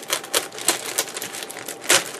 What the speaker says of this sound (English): we're going to begin removing all these parts from its plastic